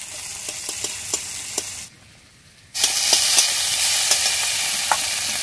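Tomatoes, garlic and onion frying in a pan for a Bengali magur fish curry, a loud steady close sizzle with clicking stirs from a utensil, broken by a brief quieter gap before the sizzle surges back.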